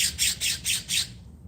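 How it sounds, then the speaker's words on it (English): Noisy birds outdoors give five rapid, harsh squawks in a regular burst. The calls are close and loud, then stop abruptly into quiet. "Wow, some noisy birds today."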